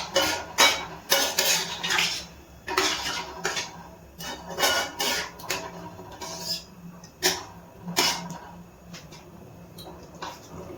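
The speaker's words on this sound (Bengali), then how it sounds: "ভালো করে সবকিছু মিশিয়ে নিচ্ছি" A spoon scrapes and clatters repeatedly against a pan while chicken keema masala is stirred with a splash of warm water, producing loud, close, irregular metallic knocks over a low background.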